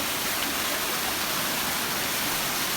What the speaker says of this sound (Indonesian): Nantinya air terjunnya cukup kecil dan nanti ada air terjun besar juga di pojokan sana